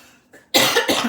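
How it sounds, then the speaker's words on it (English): A single loud, close cough bursts out in two harsh pulses after a faint breath. "no laughing, it makes me cough."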